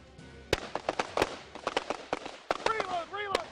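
Carbine shots ring out in a rapid string during a tactical shooting drill, sharp close cracks mixed with shouted commands from an instructor over the firing.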